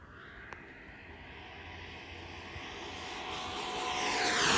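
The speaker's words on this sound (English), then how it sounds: "Let's do a nice low speed pass, give you a good feel of just how fast this thing is." FMS Integral 80mm RC jet making a low speed pass, a steady ducted-fan whine that swells gradually louder as the model approaches, heard alone from a moderate distance.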